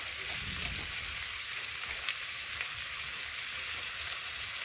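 Thin-cut potatoes fry with salt, turmeric and Kashmiri chili powder, giving a steady, moderately loud broadband sizzle with faint stirring scrapes throughout and no talking.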